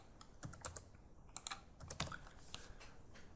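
Computer keyboard typing while values are entered into a software configuration form: quick, irregular clusters of keystroke clicks, close and fairly quiet, with no voices.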